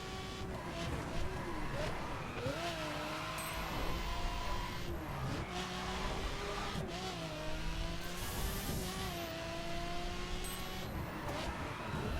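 A hypercar's engine revs and accelerates in The Crew racing game, a steady loud mid-pitched drone rising and falling in pitch through repeated shifts, with faint speech underneath.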